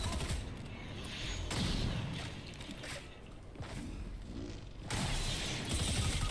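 Gunfire in the Fortnite video game: sustained bursts of rapid shots and crackling effects with loud bursts at the start and end, without talk.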